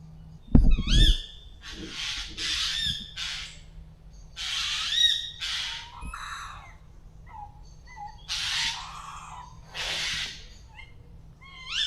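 An owl calls repeatedly outdoors in the early morning, shrill screeching squawks in irregular bursts of moderate loudness over a low steady hum, after an initial thump.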